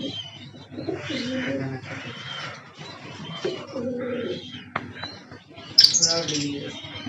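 Lovebirds chirping and cooing in an aviary, a busy, cluttered mix with a sharper high call near the end; several birds at close range.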